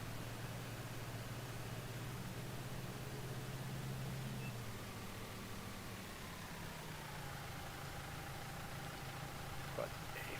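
Small tractor engine idling in a farming video game, a steady low drone with noisy hiss, constant and unbroken throughout.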